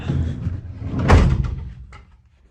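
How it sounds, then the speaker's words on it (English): A VW T4 van's sliding door, just refitted with new runners, shuts in one solid, close slam, with a brief rattle trailing off afterward. "now that I've changed the runners over, the door"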